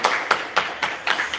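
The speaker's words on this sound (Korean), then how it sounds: "우리 하나님께 영광의 박수를 올리겠습니다." A short burst of hand claps in a church service, a handful of sharp claps in an uneven rhythm, close and fairly loud.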